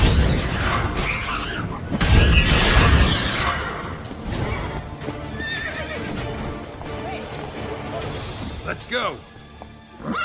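Roach the horse from The Witcher 3 neighs and gallops with hoof clatter amid game combat noise, while voices call out over the action.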